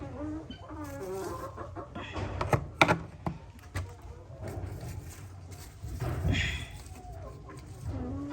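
Layer chickens cluck and murmur in a small coop on a mini farm in Ghana, a busy mix of close calls and soft chatter over a low background rumble.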